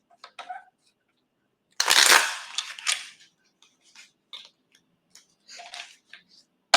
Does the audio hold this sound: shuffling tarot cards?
yes